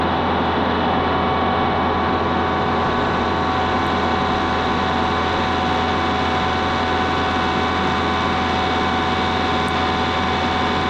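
A tractor fitted with an inverted MK Martin Meteor snow blower runs forward with a steady, loud, unbroken engine and blower drone, with no variation across the whole stretch.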